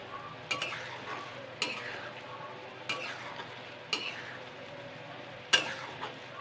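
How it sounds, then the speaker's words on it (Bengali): Sugar syrup is stirred in a pan until it dries and thickens, a quiet low sizzle under roughly five sharp spoon scrapes against the metal, evenly spaced about a second apart. "চিনির শিরাটা এইভাবে নাড়তে নাড়তে চিনির শিরাটা কিন্তু শুকিয়ে ফেলতে হবে"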